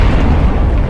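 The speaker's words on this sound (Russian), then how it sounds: "И в этот момент происходит взрыв." A bomb blast in a dramatized assassination of Tsar Alexander II, whose carriage was on the Catherine Canal embankment, booms loud and close as a short, dense roar with no talk.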